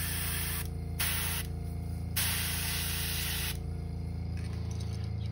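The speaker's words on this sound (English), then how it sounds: "Trying out my new airbrush." An airbrush sprays candy paint onto a custom crankbait lure, giving a steady close hiss in short bursts with brief pauses between passes over a constant electrical hum.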